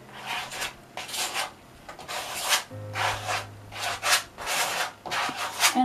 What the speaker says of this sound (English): I'm gonna use a credit card. So I'm just gonna start wiping this on.